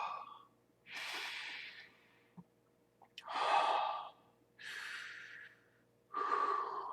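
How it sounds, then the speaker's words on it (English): Heavy, labored breaths come in slow alternating inhales and exhales, each lasting about a second, close and alone with short quiet gaps between them. "I gotta control my breathing."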